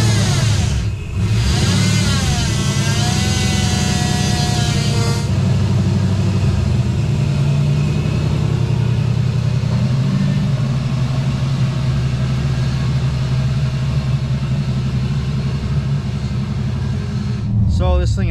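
LS-swapped Nissan 240SX S13 driving with a constant loud engine drone that rises and falls, surging in the first few seconds, with a person talking over it.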